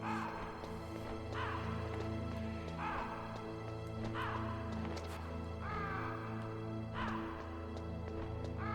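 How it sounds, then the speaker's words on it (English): Crows caw repeatedly in the video game Metal Gear Solid, harsh calls recurring every second or so over a low, steady background drone. "you listen to crows go caw-caw"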